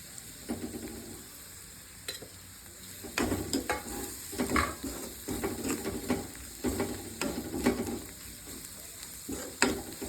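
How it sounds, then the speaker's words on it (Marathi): Homemade masala, coriander powder, sabzi masala and salt are sautéed in a pan for a spicy moth bean dish. A steady sizzle sits under repeated, close spatula scrapes and stirring strokes in uneven bursts, with no voices. "आता फक्त 1 मिनिट परतून घ्यायचं मसाले टाकल्यानंतर"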